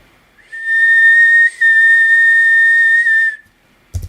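A single clear whistle holds one high pitch for about three seconds with a tiny dip in the middle, loud and close, followed by a brief knock.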